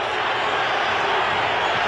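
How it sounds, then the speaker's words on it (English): Steady roar of a large football stadium crowd in Atlanta during a 1981 Falcons home game against San Francisco, a loud continuous wash of crowd noise with no break. "Listen to the Atlanta crowd."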